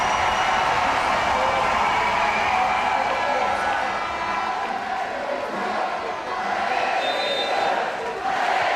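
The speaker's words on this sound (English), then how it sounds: "orchestrating the noise from the crowd" A large crowd in an arena at a sitting volleyball match roars and cheers continuously, a dense, loud wash of voices and noise that barely dips throughout, with an announcer's voice faintly mixed in.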